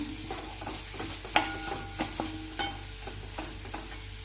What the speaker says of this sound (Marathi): शेंगदाण्याचा कूट छान असं परतून घ्यायचं आहे ते मसाला संपूर्ण